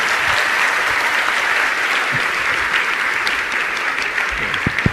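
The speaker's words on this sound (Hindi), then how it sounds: "आपकी ताली नहीं बजी, अच्छे से बजाइए।" An audience at a religious question-and-answer gathering breaks into loud, steady, dense clapping that carries on without pause, with a few sharper claps near the end.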